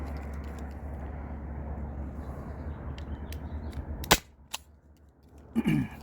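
A Byrna SD launcher fired over a chronograph outdoors, a single sharp, loud pop cracking out over a low background rumble, followed by a faint click and a brief rustle.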